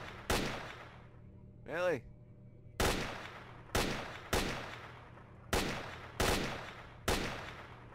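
Single loud gunshots ring out one at a time with reverberant tails in S.T.A.L.K.E.R. Shadow of Chernobyl, roughly seven spaced shots over several seconds, with a brief spoken word partway through.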